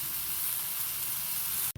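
Continuous dense sizzling and hissing of prawn heads roasting with coconut in a hot pan, steady and close, ending abruptly.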